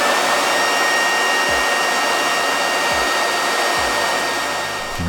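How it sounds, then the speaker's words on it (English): Cheap corded leaf blower running continuously, a loud, steady broadband roar of rushing air with a faint whine, with a few low thumps partway through. "here's how a cheap corded blower would compare."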